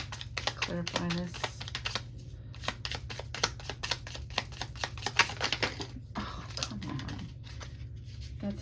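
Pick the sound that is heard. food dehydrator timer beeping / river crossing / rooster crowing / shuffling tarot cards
shuffling tarot cards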